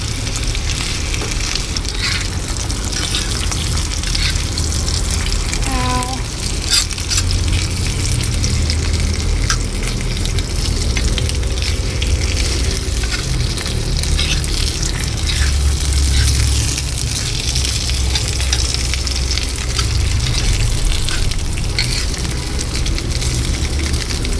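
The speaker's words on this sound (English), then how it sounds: "And let's start frying them." Potatoes fry on a hot plate with a steady, loud, continuous sizzle that stays even throughout, with no voices over it.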